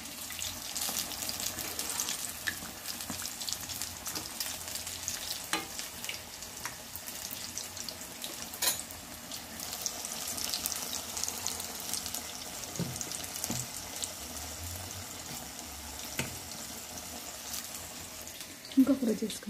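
Large mirchi bajji frying in hot oil, a steady hissing sizzle running throughout with occasional clinks, moderately close and fairly loud.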